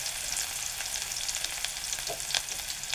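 Curry leaves hitting hot oil in a pan for a farsan vegetable dish: a bright, steady sizzle and crackle, close and continuous, with a few sharper pops.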